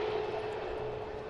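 A KLM airliner at Manchester Airport gives off a steady, broadband jet roar with a constant engine tone, moderately loud and unbroken throughout, with no voices.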